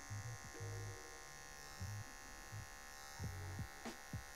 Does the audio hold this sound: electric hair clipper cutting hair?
yes